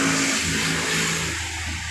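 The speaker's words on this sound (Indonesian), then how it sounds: "truk ekspedisi ya." An expedition truck drives by on an unpacked, waterlogged fill road near Palembang, giving a steady, fairly loud mid-pitched engine drone that eases slightly toward the end, with no talk.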